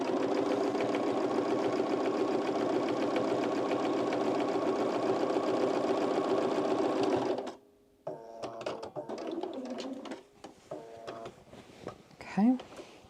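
A sewing machine top stitching an oversized blazer hums in a fast, steady run, then stops; after that come quiet fabric handling, brief clicks and a person talking.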